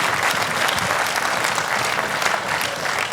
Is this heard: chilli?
no